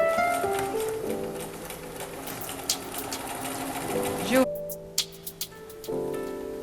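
Sewing machine stitching a trouser fly zipper with its facing, running in steady continuous bursts with a short pause near the end, close and moderately loud.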